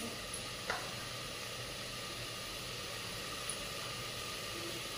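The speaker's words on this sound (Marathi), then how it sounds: "आता हे सगळं साहित्य असं छान परतून घेते" Ingredients sautéing in a pan with a pinch of asafoetida for a rice dish with fresh pigeon peas: a steady, even sizzle throughout, with a faint tap or two, close and without talk.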